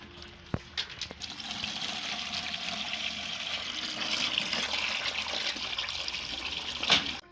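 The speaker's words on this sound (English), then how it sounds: "Boom, the water is going down." Water draining out of a fish tank during a catfish disease treatment, a steady gushing, trickling flow heard up close and alone that swells slightly toward the end, with a few sharp knocks near the start.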